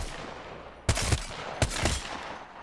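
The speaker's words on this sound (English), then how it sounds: "So for the scout, again, we're going to do some standing still headshots." Scout rifle fire in Apex Legends while landing standing headshots: two loud, sharp reports roughly three quarters of a second apart, each with a short bright tail, over a constant game-noise bed.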